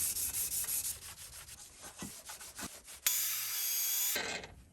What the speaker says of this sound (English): I'm just going to finish smoothing it, this bit right here. Just going to get up to a nice high grit.